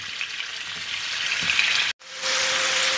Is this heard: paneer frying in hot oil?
yes